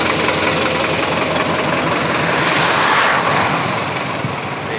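A modified HMT 5911 tractor engine fitted with a large heavy silencer idles steadily, giving a continuous dense rumble that stays level throughout with no talking.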